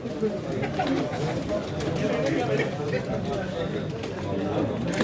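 Tumbler pigeons, prized play birds, coo softly in a low, murmuring chorus while people talk nearby.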